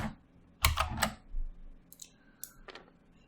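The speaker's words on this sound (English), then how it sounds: "Let's shuffle." Mage Knight board game cards are shuffled close up in a few quick bursts of riffling clicks and slaps, separated by short pauses and softer taps.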